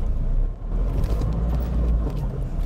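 A car pulling away in second gear, its engine a loud steady low rumble heard from inside the cabin, even and continuous with no speech over it.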